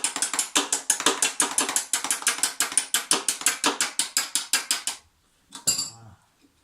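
A ratchet clicks rapidly and steadily close by while a nut is removed from a Honda push lawnmower, a long even run of sharp pawl clicks that stops, followed by a brief metallic clatter.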